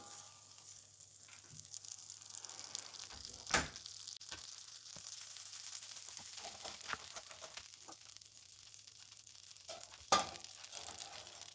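Butter and a capon fillet sizzle in a pan, a steady soft frying hiss with occasional crackles and two sharp utensil clinks, fairly quiet and close, without talk.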